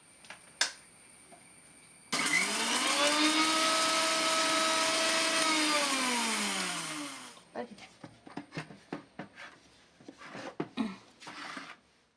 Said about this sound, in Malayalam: നമ്മളൊരു 5 ഏലക്ക തൊലി കളഞ്ഞിട്ട് ജീരകം കൂടെ ഇട്ടിട്ട് ഒന്ന് മിക്സിയിലിട്ട് പൊടിച്ചെടുക്കാൻ പോവാണേ